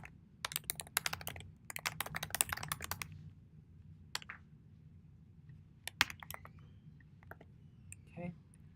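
Code being typed on a computer keyboard in quick bursts of close clicking keystrokes, with pauses and a few isolated taps between runs, under quiet room tone.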